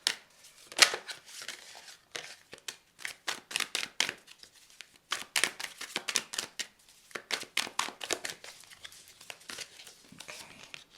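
Zen cards are handled and shuffled up close, giving quick bursts of papery riffles and crisp slaps in irregular clusters, fairly quiet with short pauses between shuffles.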